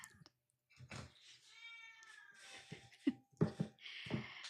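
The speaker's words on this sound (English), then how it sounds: "Let me get rid of the cat." A house cat meows repeatedly and loudly close by, a series of drawn-out, rising cries that grow more insistent toward the end, with no talk over them.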